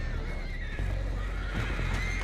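Horses neighing and whinnying in the open-world game Red Dead Redemption 2, a steady, fairly loud run of calls with hoof clip-clop and game ambience underneath, no talk.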